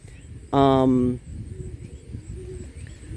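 A single loud harmonic pigeon coo, about half a second long, stands out over a low murmur of background pigeons and rustling in a loft.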